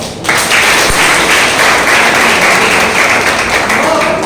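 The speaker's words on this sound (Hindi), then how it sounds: "एक बार ताली बजा लें।" Audience members at a talk break into loud, dense clapping that starts abruptly after a brief quiet moment and carries on evenly, with some voices faintly mixed in.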